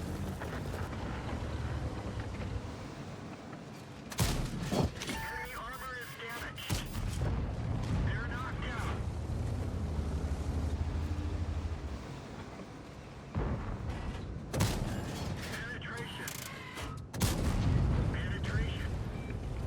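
Tank cannon fire in an armored-combat video game featuring the Progetto 65, with several loud booming shots at intervals amid constant rumble and wind-like noise.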